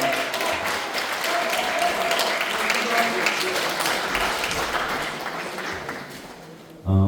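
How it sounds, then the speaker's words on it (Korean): Audience applause fills a lecture hall at a political party regional committee event, broad steady clapping sustained for about seven seconds at moderate loudness, then a short low thump at the end. "그리고 두 의원님 다시 한번 큰 박수 부탁드리겠습니다."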